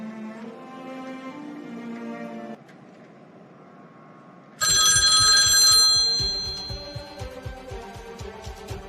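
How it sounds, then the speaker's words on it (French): A telephone rings alone, with sustained tonal ringing and then a louder, brighter burst of ringing, clear and close with no talking. "Salut Émilie, c'est André. Je ne te dérange pas? Pas du tout, je suis contente que tu appelles"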